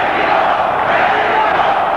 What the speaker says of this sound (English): Mexico is the chant from the crowd,